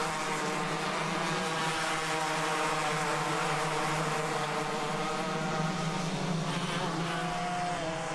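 Club100 racing karts at a sprint race at Lydd circuit produce a steady, continuous high engine drone with several engines buzzing together at a distance.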